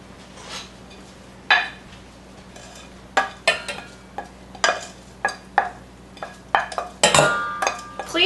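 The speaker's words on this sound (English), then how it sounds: "now I'm going to add in the onions and sauteed garlic" Onions and sauteed garlic going into a pot for stuffed grape leaves with meat, followed by a series of distinct scraping and clinking stirring strokes against the pot with a faint sizzle beneath, close and fairly loud.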